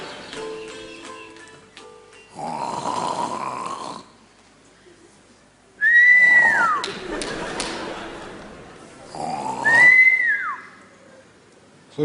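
A sleeping woman snores in a comedy film: three long, loud snores come at a slow, even pace, each ending in a rising-then-falling whistle on the exhale, with quiet gaps between them.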